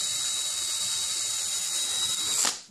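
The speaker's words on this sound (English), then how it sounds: "Decided the quickest way to do it was just for me to hold these in place and drill through them." A power drill bores through held metal pieces in a homestead metalworking setup, a loud steady high whine that ends in a brief bite and a quick spin-down.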